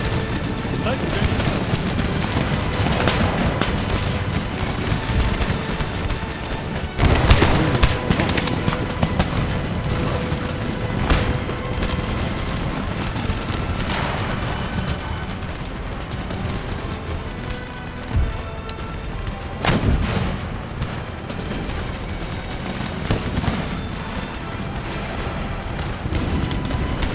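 Artillery cannons fire in Empire Total War, scattered booming blasts and crackling volleys over a dense, continuous battle din, with someone talking throughout.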